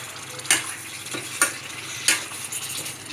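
Chicken curry with spices stirred in a pan as it fries, a steady sizzle broken by three sharp scraping strokes of the spoon at regular intervals, close and clear, with no talk.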